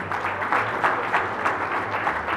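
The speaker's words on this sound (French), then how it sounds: "je demanderai maintenant que vous puissiez aussi vous applaudir puisque vous êtes là" An audience at a women's association launch event claps steadily, a dense continuous patter of many hands at moderate distance, with no talking over it.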